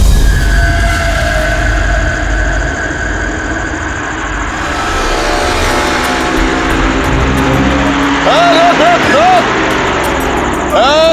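A car runs with a steady, loud engine rumble during a CID television drama scene, with the vehicle flagged down at a checkpoint. The engine noise is constant throughout, and a few short high chirping tones come near the end.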